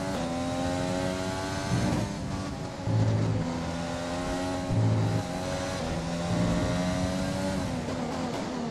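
Simulated Formula 1 race car engine from the F1 2020 video game at the Bahrain circuit, a steady high-pitched whine with gear-change shifts, continuous and loud with no talking.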